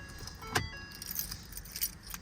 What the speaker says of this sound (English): One set of keys and a key for the body as well.